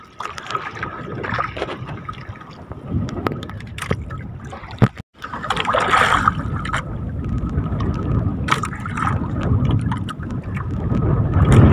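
Wind and choppy sea water batter a small boat out on rough open water with big waves, a steady loud rush and splashing that swells and dips, with one brief dropout midway.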